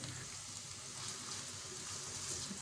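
Cumin seeds and finely chopped onion sizzle in hot oil for baingan bhurta, a steady, close frying hiss with no voices.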